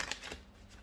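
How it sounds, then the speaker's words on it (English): A deck of tarot cards gets a quick shuffle, a short faint burst of papery riffling ticks that fades out within a second. "One last shuffle."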